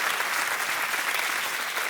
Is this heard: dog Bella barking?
no